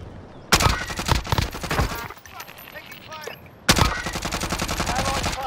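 Loud, close bursts of rapid automatic gunfire from an assault rifle or SMG in a first-person shooter, two sustained volleys separated by a quieter gap with scattered distant shots and game sounds.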